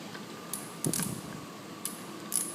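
A hand ratchet tightening bolts on an overheating Cadillac engine, a few sharp, close metallic clicks in short bursts over a quiet background.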